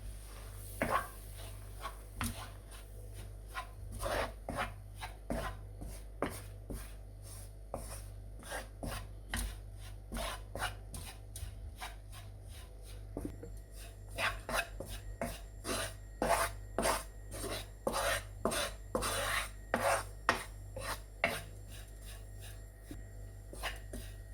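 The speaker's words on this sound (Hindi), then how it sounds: "इसको कंटिन्यूसली हिलाते रहना है, मिक्स करते रहना है मीडियम लो फ्लेम पे" Wheat flour roasts in a pan over medium-low flame while it is stirred continuously, producing repeated close scraping and rasping strokes in an uneven rhythm over a low steady hum.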